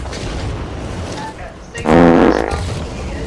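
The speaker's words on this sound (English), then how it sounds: "He's listening to fart noises." Fart sound effects play over voice chat in the co-op shooter Back 4 Blood, a loud burst of rapid, bubbly flatulence noises about midway, with game audio and background chatter around it.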